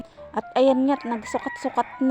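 A rooster crows nearby while a person speaks over it, other fowl clucking in short bursts around the voice.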